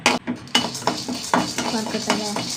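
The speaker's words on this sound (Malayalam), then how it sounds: "വറുക്കട്ടെ വറുക്കട്ടെ കടലപ്പരിപ്പുമായി" A metal spoon clatters and scrapes against a pan while washed chana dal is dry-roasted, repeated clanks at an uneven pace, close up.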